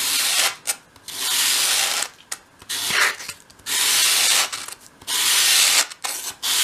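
Wood being sanded to round its edge for a 1/12th scale dolls house radiator cover, heard as several rhythmic abrasive sweeps, close and fairly loud, each separated by short pauses.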